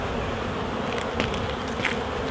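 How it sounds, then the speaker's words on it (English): Honey bees buzz steadily and close up at a springtime hive in the UK, a dense continuous drone with brief louder passes. "Look, this is my little friendly bee."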